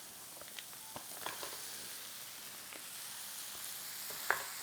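A pound of ground beef sizzles and fries in a pan with onions, a soft continuous crackle broken by a few faint stirring and scraping ticks.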